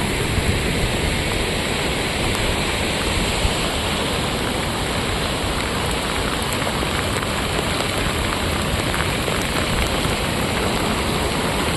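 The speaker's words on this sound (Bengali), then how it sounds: "এটা আমাদের বড় ড্যামে জল পড়ছে এখানে জলপ্রপাতের মতো আওয়াজ হচ্ছে" Water pours over a large dam during heavy rain, a dense, loud, unbroken roar like a waterfall that fills the whole stretch without pause.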